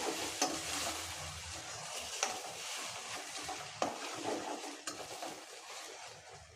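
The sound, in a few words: sautéing tomatoes and green chilies in a pan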